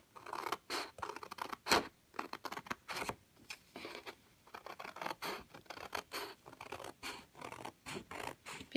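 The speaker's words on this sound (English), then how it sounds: "Have you ever noticed how cutting paper is a little bit calming?" Scissors cutting scrapbook paper for decorating a traveler's notebook insert, a close series of crisp snips and scratchy slices in uneven bursts with short pauses between them, no voices.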